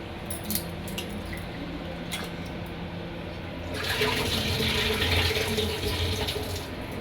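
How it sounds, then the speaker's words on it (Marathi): Running water pours steadily from a tap, growing louder and fuller partway through as rice is rinsed beneath the stream; no one speaks. "नळाखाली मी स्वच्छ पाण्यामध्ये धुवून घेते पहिल्यांदा"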